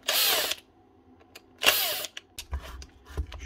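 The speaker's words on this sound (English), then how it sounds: "DSDL 2017 Hitachi corded grinder." A repaired Hitachi corded grinder with new brushes runs in two short bursts, each a loud high-pitched whirring whine that starts abruptly and cuts off, followed by quieter mechanical clicks and handling knocks.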